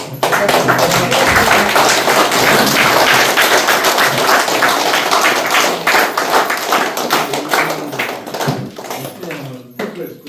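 A crowd at an ashram event applauds its head, sustained dense clapping that stays loud for most of the stretch before thinning out toward the end.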